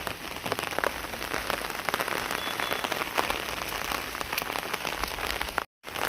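Steady rain falls on a village road, a dense, close, continuous patter of drops hitting the wet surface that drops out briefly near the end, with no voices.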